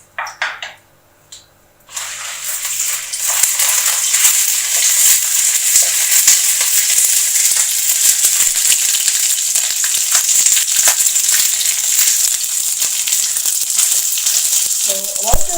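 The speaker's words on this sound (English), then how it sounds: "the pan is already hot, I think I can just drop in my red chilies" Red chilies dropped into a little hot oil in a pan for gongura pickle, bursting into a loud steady sizzle after a few quiet seconds and frying continuously close by, with occasional faint clinks.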